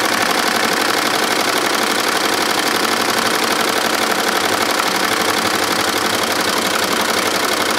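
An embroidery machine stitches a design onto a cooler bag at about 700 RPM, a steady, fast mechanical chatter running without a break at close range.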